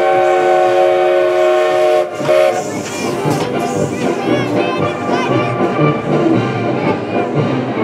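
Steam locomotive hauling a retro military train into Verkhniy Baskunchak station, a loud sustained whistle with stacked tones for about two seconds, then heavy rumbling, hissing and clanking as the train rolls in, with a crowd and band faintly underneath.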